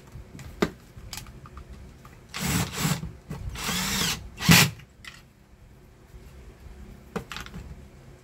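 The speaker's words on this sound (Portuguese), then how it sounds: "E agora a gente vai parafusar eles." Small screws driven in with an electric screwdriver while a clothes iron is put back together: a few short whirring bursts of a few seconds each, with light taps and clicks between them, close and fairly quiet, no talking.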